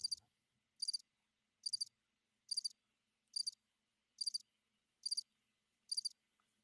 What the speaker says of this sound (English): You're getting crickets